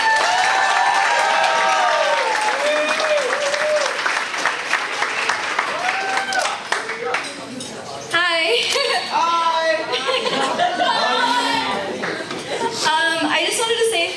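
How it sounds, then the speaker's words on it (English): Loud, sustained applause from a party crowd at a graduation celebration, steady clapping with cheers and laughter mixed in, voices chattering underneath throughout. "please give her a warm round of applause"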